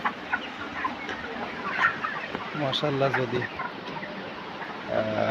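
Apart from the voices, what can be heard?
broiler chickens clucking on a poultry farm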